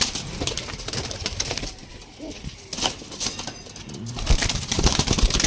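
Pigeons in a loft of fancy breeder birds coo and stir, with wing flaps and shuffling mixed into a busy, fairly loud, continuous close-up soundscape and no talking.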